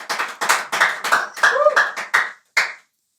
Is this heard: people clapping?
yes